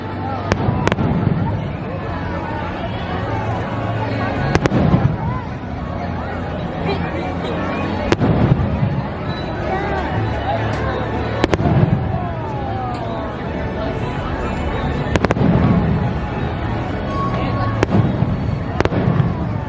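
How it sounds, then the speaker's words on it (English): Fireworks bursting at Disneyland at night, a string of sharp booms and crackles every few seconds over a constant hubbub of crowd chatter nearby. "Fireworks are going off"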